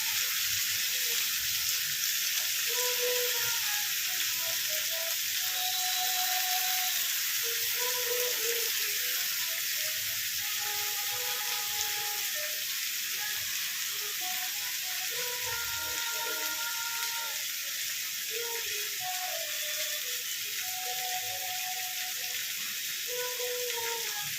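Chicken for dopeyaja sizzles in a pan after a splash of water is added, giving a steady, even hiss that holds for the whole stretch with faint tonal sounds in the background and no talking.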